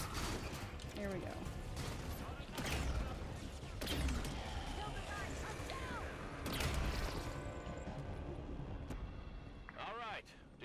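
Turret gunfire in the Halo 5 Guardians video game, a loud, dense, continuous barrage of automatic shots with mechanical clatter and other battle effects.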